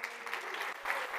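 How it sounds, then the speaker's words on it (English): Audience at a conference morning session breaks into applause, with a brief burst of dense, steady clapping from many hands. "I want everybody to give you a round of applause"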